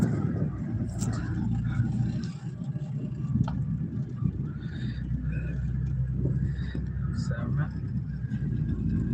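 A powerful car drives steadily with a continuous low engine rumble and road noise inside the cabin. The sound stays fairly even throughout at moderate level, with occasional faint rattles, and a voice talks intermittently over it.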